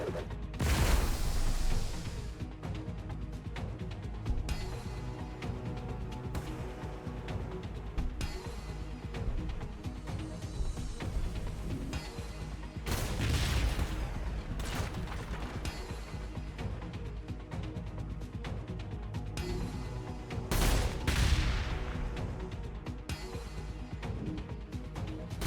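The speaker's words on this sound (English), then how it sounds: "Anti-vehicle grenade." Anti-vehicle grenade and gunfire in the video game Warhammer 40,000: Gladius, Drukhari DLC: three heavy booming bursts with broad crackling decay, separated by a low mechanical rumble, fairly quiet in the mix.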